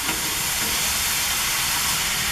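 Onions and steak cook on a flat griddle with a loud, dense, continuous sizzle like a steady hiss of steam, close and unbroken.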